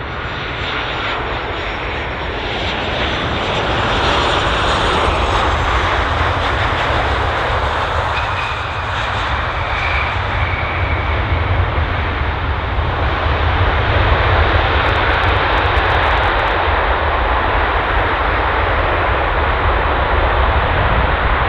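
A jet airliner lands on runway 09 at Bristol Airport, its engine roar loud, broad and sustained throughout with no talk over it.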